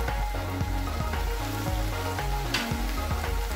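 Okra and softened tomato frying in a pan, a steady crackling sizzle that holds throughout, close and moderately loud, with no voices.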